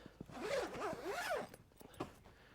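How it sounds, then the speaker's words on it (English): A zipper on a swag tent vent is drawn closed in one long, close, quiet pull, followed by a few soft fabric clicks. "if it's cold in winter, you just zip it all the way up again"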